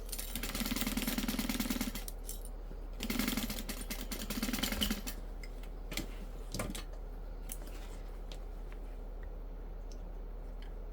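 A sewing machine stitches a handbag in two quick whirring bursts separated by a short pause, followed by softer handling clicks and taps nearby.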